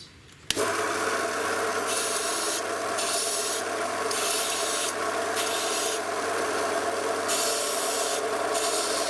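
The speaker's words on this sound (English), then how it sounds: "first I round the fret edges, then I sand in the curve." A file rasps against the fret edges of a Teisco guitar to round them off, a steady scraping that begins after a sharp first contact and runs on in even strokes, close and alone.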